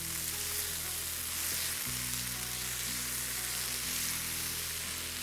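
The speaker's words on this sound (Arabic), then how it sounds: "يلس نقلب." Chicken frying in a pan gives a continuous, even hiss of sizzling oil, with faint stirring movements beneath it and no voices.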